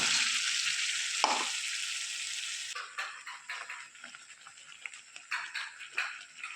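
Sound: spice paste frying in hot oil

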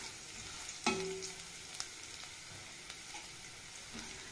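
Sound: raw peanuts added to frying garlic in a pan

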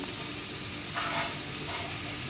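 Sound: stirring spice powder into a frying pan

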